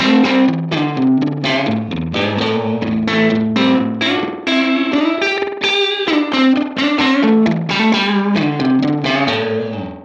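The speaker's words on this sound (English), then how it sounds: "although they're just very fast, but it almost gives more of a reverb effect" Electric guitar run through a Line 6 Helix processor with very fast echo repeats that blur into a reverb-like wash, playing a loud, continuous distorted chord passage with a thick, smeared tail.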